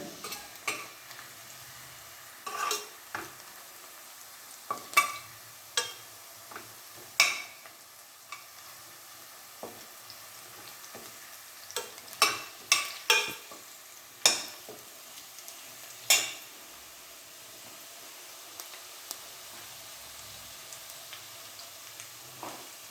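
Onions browning in a pan for chicken biryani, a soft continuous sizzle broken by scattered scraping stirs of a spoon, close and moderately quiet, with no voices.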